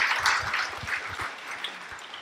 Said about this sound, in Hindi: इनके लिए ताली तो बजाइए।